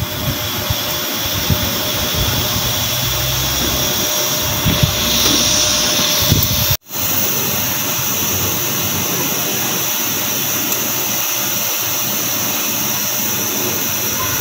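A stovetop espresso maker boils and brews coffee, giving a steady broadband hiss and gurgle that holds through the whole stretch, broken by one brief dropout near the middle.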